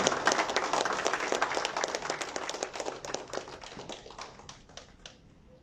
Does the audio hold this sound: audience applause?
yes